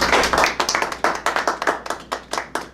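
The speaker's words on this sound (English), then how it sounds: "Let's give a big round of applause for the camera crew here." A small group claps for a camera crew, the individual hand claps distinct and close, arriving in quick uneven bursts that keep a brisk rhythm for a few seconds.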